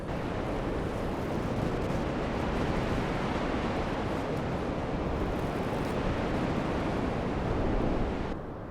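A windy squall blows across a beach with surf behind it, a loud, continuous roar of wind buffeting close by and masking the waves, steady throughout with no voices.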